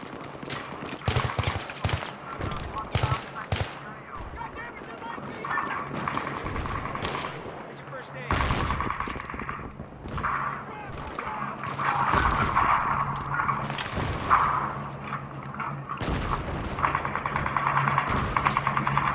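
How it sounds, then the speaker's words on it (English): Incoming mortar fire in Battlefield 3 gameplay: a dense, continuous barrage of gunfire and explosive blasts, loud and close, with repeated sharp impacts and rumbling over a constant din of battle. "I'm being mortared"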